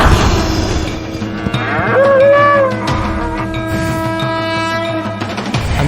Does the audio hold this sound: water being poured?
no